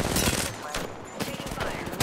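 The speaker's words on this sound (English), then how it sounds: "Opening fire." Video game gunfire, dense and loud, fills the whole moment as a rough continuous barrage with bursts of sharp cracks and no clear gaps.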